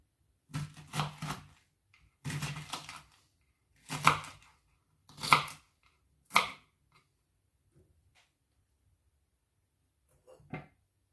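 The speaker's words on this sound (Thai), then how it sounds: "ต่อไปเราก็จะมา หั่นกระเจี๊ยบเลยนะคะ" Roselle being chopped with a knife on a board: five quick bursts of rapid chopping strokes separated by pauses, then one last short burst, close and alone in a quiet room.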